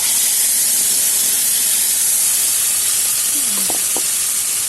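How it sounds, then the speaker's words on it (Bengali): Tomato paste hits hot oil spiced with chilies, bay leaves and five-spice for a Bengali vegetarian bitter gourd dish, giving a loud, steady broadband sizzle with a few faint clinks near the end. "এখন আমি দিয়ে দেবো এখানে একটা বড় সাইজের টমেটো পেস্ট করে নিয়েছিলাম, ওটা দিয়ে দেবো।"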